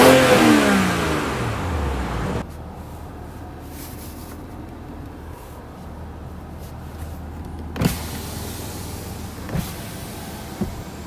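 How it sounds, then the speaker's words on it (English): A 2021 BMW 5 Series straight-six engine revs hard at first, its growl sweeping upward, then drops to a low steady idle, with a few faint clicks and bumps later. "so we can hear the straight six growl"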